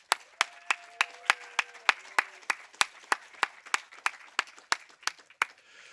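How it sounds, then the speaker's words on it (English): Screening audience greeting filmmakers at a showing of Terminal USA: a small group clapping in sparse, distinct, fairly regular claps, close and crisp, with faint tones running briefly beneath. "So let's give them a round of applause first."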